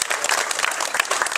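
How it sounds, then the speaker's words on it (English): People at a county council meeting applaud the fire department, a brief burst of brisk, moderately loud clapping from a room of attendees, with no one talking over it. "So let's give our fire department another round of applause."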